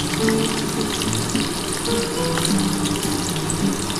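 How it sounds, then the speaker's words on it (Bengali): Egg and capsicum masala fries in a pan with turmeric and salt, giving a loud, continuous close-up sizzle and crackle with no pauses. "এটা একটু হালকা করে ভেজে নিই বন্ধুরা"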